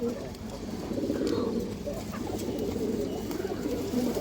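Pigeons, among them a green-necked female, coo in low rolling calls over a busy, steady background murmur of a loft, moderately near and fairly faint.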